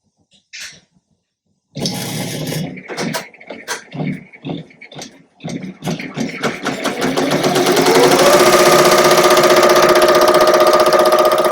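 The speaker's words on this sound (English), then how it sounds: "I'm going to press start on the machine, and it's going to start going" A Ricoma embroidery machine stitching an in-the-hoop plush toy starts up after a few clicks and bumps, then runs in a fast, steady mechanical rattle that builds to full speed, loud and near.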